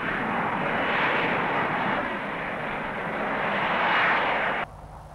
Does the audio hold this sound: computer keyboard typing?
no